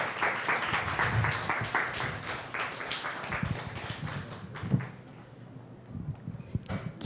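An audience claps after a presentation at a biodiversity event, a moderate crowd applause that fades gradually over several seconds, with a few scattered claps lingering at the end.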